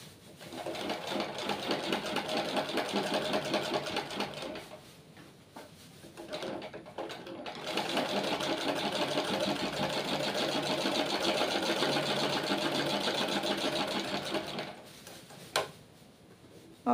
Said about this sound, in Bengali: ছাতিটা মেপে সেলাই করে নিচ্ছি।